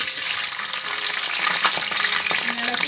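Green chilies sizzle and crackle steadily in hot coconut oil in a pan, a continuous close frying hiss with occasional stirring scrapes, no voices.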